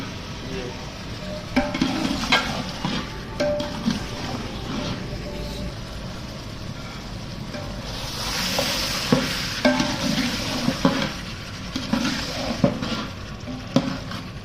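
Chicken korma gravy with onions cooking in a pan over a low flame, a steady sizzle with frequent scraping and stirring knocks, close by, and a voice speaking at points over it.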